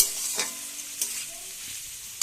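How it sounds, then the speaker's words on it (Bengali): Capsicum, carrots and beans stir-fry in a home kitchen pan for fried rice, giving a steady close hiss with a few sharp scraping clatters of the spatula. "ক্যাপসিকাম, গাজর, বিনস এগুলো সব ভাজা হচ্ছে"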